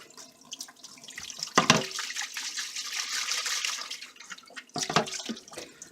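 A vacuum cleaner part is rinsed under a running cold water tap with no soap, a continuous close splashing flow with two louder knocks of handling, and no one speaking.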